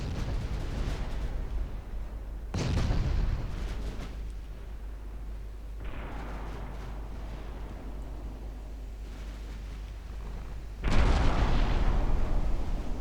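Battleship main guns fire in Ultimate Admiral Dreadnoughts, heavy naval cannon booms landing three times with long rumbling tails between shots, loud and reverberant over a constant low background.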